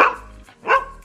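A pet dog at home gives two loud, close barks, sharply separated by a brief pause, with no talking.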